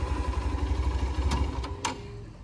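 Hero Xtreme 160R motorcycle engine idling steadily on its stand, a continuous low rumble with a couple of brief sharper clicks near the end.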